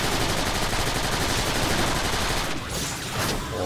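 Dense, loud automatic gunfire in Transformers: Rise of the Dark Spark, a continuous rattling stream of shots that fills the whole moment before briefly thinning near the end.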